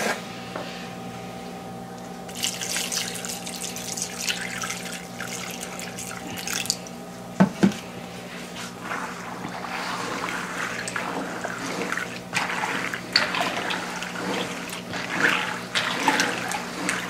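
Water pours steadily from a tap into a cooking pot in a home kitchen, a continuous splashing trickle over a low appliance hum, with a couple of brief clinks partway through.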